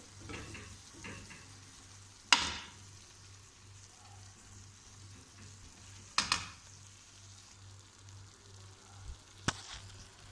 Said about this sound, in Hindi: अब इनको अच्छी तरह मिक्स कर लेंगे।